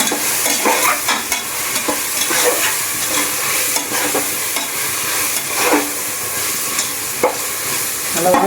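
Biryani being stirred in a pressure cooker, a continuous close scraping and sizzling with irregular spoon knocks against the pot, loud and steady throughout with no talk.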